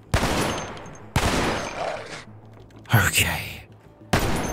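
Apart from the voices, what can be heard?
gunfire in video game Cataclysm: Dark Days Ahead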